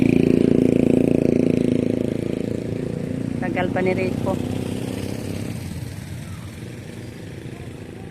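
A motorcycle engine idles steadily nearby while its rider waits, a low continuous rumble that eases slightly midway, with someone talking briefly over it and a short chirp in the background.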